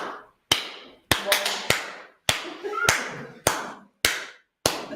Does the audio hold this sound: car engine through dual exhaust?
no